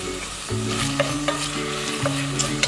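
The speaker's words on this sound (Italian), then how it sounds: "Facciamo un attimino tostare anche la pancetta." Pancetta and peas fry in a pan with fresh chopped parsley while a utensil stirs them, giving a steady close sizzle broken by repeated scraping strokes and soft clacks.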